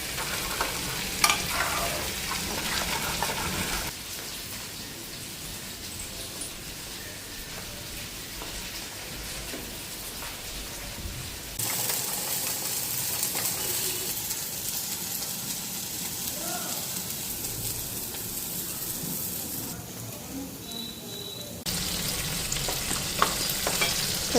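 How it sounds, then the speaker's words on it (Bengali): Fish and eggplant fry in hot oil in a pan, a steady soft sizzle with changing intensity as the pieces are moved, close and alone with no talk. "এদিকে মাছটা ফ্রাই করলাম, 1 পিঠ হয়েছে, এই পিঠগুলি হইব। আর এদিকে বেগুন ভাজাটা বসাইলাম।"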